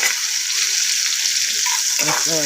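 Chopped tomatoes frying in a pan, a loud, constant bright sizzle with occasional stirring, close by; a brief voice-like tone rises near the end.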